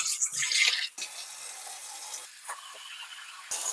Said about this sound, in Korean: 열무를 씻어 주세요.